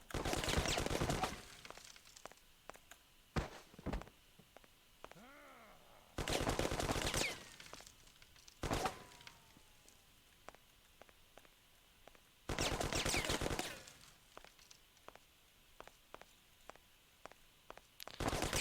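Gunfire in the retro video game Mafia during a museum shootout: short bursts of automatic fire alternate with sharp single shots at irregular intervals, separated by quiet gaps.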